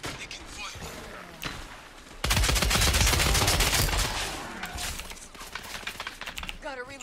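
Rapid automatic gunfire erupts in a loud, dense burst in the online shooter Scavengers, followed by scattered shots and impacts, while a player talks over the action.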